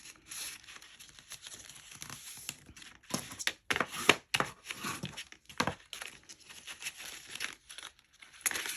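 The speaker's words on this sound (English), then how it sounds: "Folding back, burnishing down, and folding back again." A paper bag is folded and burnished flat for a mini album base, giving repeated crinkling, rustling and dry rubbing bursts close by, with a few louder crackles midway and no speech.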